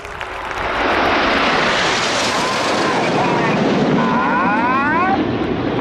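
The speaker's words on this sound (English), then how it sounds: "That aeroplane also flew offensive sweeps over Jack. The Red Arrows!" Red Arrows aerobatic jets roar overhead at an air show, a loud, sustained broadband rush that swells and holds, with a commentator speaking over it.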